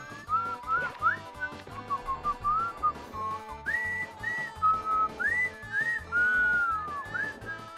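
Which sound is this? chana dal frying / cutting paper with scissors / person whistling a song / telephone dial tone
person whistling a song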